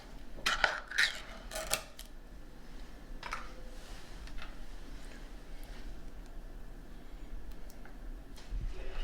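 Eggs and sweetened condensed milk being mixed in a bowl, with light clinks and scraping of a utensil against the bowl in short bursts early on, then a soft, steady background.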